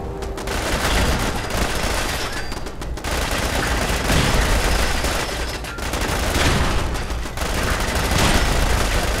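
Sustained gunfire in the Fallout 4 video game, loud rapid bursts of shots that run almost continuously with brief lulls, close and dense, without speech.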